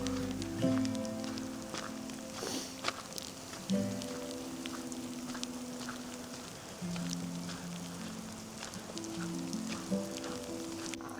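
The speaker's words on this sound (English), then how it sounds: "we are on our way back, hiking through hail" Hail falls steadily during a hike, a soft continuous patter and crackle of small impacts all around, with faint scattered ticks and low rustling, fairly quiet and without talk.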